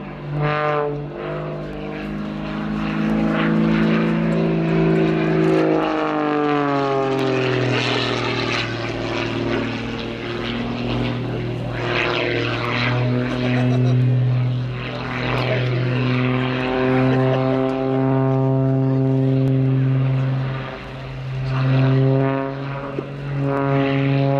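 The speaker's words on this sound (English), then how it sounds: "See the swept wings on this aircraft as it goes through its paces." A swept-wing Mikoyan-Gurevich jet flying an aerobatic display at the Yeovilton Air Day airshow roars loudly and continuously, its engine pitch sweeping and shifting as it passes close by.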